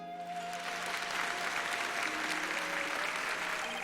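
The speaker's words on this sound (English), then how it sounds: "Man's getting applause." Steady applause from a crowd in the video game Ace Attorney 6: Spirit of Justice, a dense, continuous clapping lasting a few seconds under faint game music tones.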